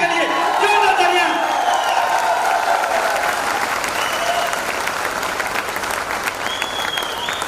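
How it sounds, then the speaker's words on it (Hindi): Loud, sustained applause from guests at a diamond celebration in Delhi, a dense wash of clapping with scattered whoops and crowd noise, tapering only slightly over several seconds while faint voices and tones drift through. "एक बार जोरदार तालियां आपके लिए, जोरदार तालियां।"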